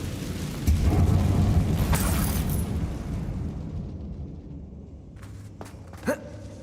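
The Incendio fire spell cast in Hogwarts Legacy gives a deep whooshing blast that roars for a couple of seconds and then fades into quiet, ending with a short, sharp impact.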